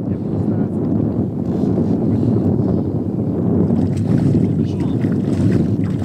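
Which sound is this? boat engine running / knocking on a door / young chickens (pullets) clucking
boat engine running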